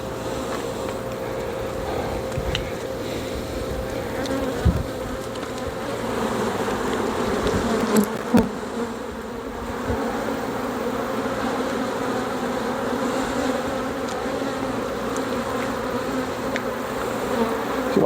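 Honey bees drone in a steady, dense buzz around an open hive during a frame inspection, with a few soft knocks and clicks of handling scattered through the continuous hum.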